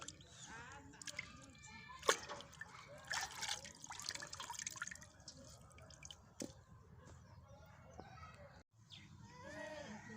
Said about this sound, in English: You wash it in the water.